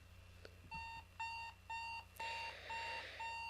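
A digital alarm clock beeps in repeated bursts, six evenly spaced electronic tones over a faint steady hum, with the later beeps a little louder and fuller.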